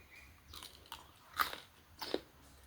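Crisp bites into crunchy green mango, followed by close, crunchy chewing, with two or three loud snapping bites standing out from quieter mouth sounds, no speech.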